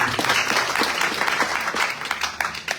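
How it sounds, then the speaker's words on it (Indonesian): A church congregation applauding at a third anniversary service, dense close clapping from many hands that thins into a few scattered claps near the end. "Saudara, kasih tepuk tangan untuk Tuhan."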